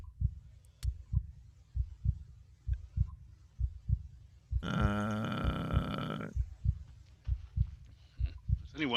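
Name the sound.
thrumming heartbeat sound effect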